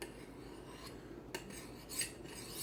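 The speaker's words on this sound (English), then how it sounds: "This is not for sharpening knives. This is called a honing steel." A kitchen knife with a small nick in its edge is drawn along a honing steel, giving faint, brief metallic scraping strokes that come and go over a quiet room background.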